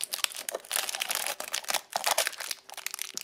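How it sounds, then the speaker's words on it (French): A cardboard window of an Advent calendar is torn open: dense, close crinkling and ripping of paper and card in rapid, irregular bursts, with no talk. "mais là c'est en train de déchirer la case"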